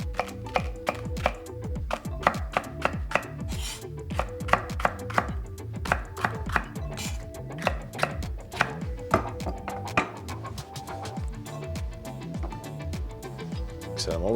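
A knife chops celery on a cutting board in a steady, rapid rhythm of crisp taps, close and clear, with a little talking in the background.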